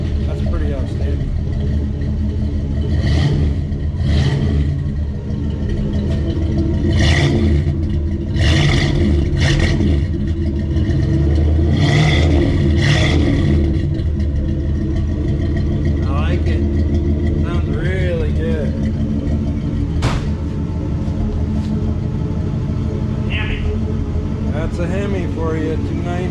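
A car engine idles and blips its throttle through a custom-built exhaust with no leaks, giving a deep grumbly rumble with several short revs, heard up close with people talking over it.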